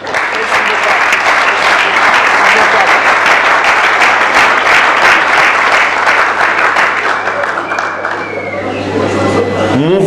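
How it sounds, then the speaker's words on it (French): Audience at a Congolese political party gathering clapping loudly and steadily in a hall, a dense sustained ovation that thins near the end as voices start to come through. "que je vous demande d'applaudir"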